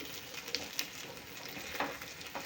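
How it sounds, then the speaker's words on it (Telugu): Stuffed bitter gourd frying in an open pan with curry leaves makes a soft, continuous sizzle, broken by a few sharp crackles and pops from the oil. "మొత్తం అన్నీ కూడా బాగా ఫ్రై అవ్వాలి మూత మాత్రం పెట్టద్దండి ఇలాగే ఫ్రై చేసుకోవాలి"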